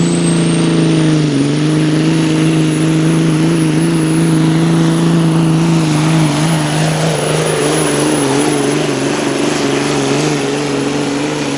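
A Freightliner pulling semi truck with a 998 cubic inch V8 Mack engine roars at high load, a loud, sustained, steady engine drone with a slight shift in pitch partway through, heard from close by with no voices.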